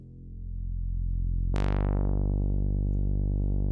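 A sustained synth bass note swells, then brightens abruptly into a washed, reverberant tone that rings on steadily to the end.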